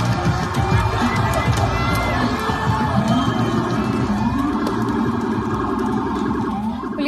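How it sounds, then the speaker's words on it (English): A street crowd at a New York City protest cheers loudly as police officers kneel with protesters in the road, voices swelling and overlapping while sirens wail close by through the whole stretch. "This move by the officers made the crowd break out in cheers."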